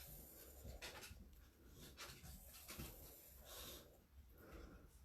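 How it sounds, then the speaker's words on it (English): A pug breathes heavily and pants indoors on a hot day, with steady snorting, wheezy breaths close by and fairly faint. Nobody speaks. "I have a puppy coming upstairs."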